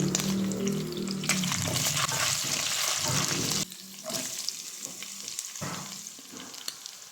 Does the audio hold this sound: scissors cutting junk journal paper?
no